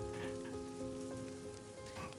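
Steady rain pours in an audio drama scene set in a storm, a dense continuous hiss with droplet patter, with sustained tonal music underneath throughout.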